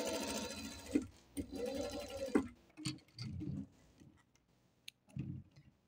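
A sewing machine stitches a summer dress in a close, loud, fast whirring burst of about two and a half seconds, then stops, leaving muffled handling and clicks with short pauses between.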